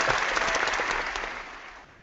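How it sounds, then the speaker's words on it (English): Canned applause effect from a video-call app, a dense burst of clapping and light cheering that starts loud and fades steadily over about two seconds, with no talking. "here, we'll do the Google Effects claps for you"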